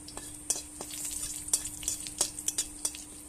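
White cumin seeds and bay leaves sizzle in hot oil for tempering a Bengali fish curry, a steady soft frying hiss broken by sharp clinks of a utensil against the pan.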